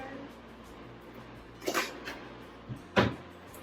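A dressing-table drawer slid and shut indoors, two short wooden knocks and scrapes about a second apart, close and moderately loud with no talking.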